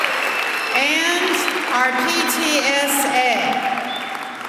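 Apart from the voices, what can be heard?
audience applause at school kickoff event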